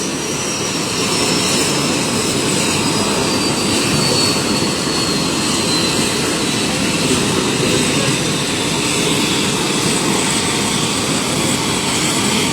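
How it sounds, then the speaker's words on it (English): A jet aircraft's engines roar steadily and loudly on the ground as they shut down, a dense, unbroken engine noise with no voices. "Shutting down the engines."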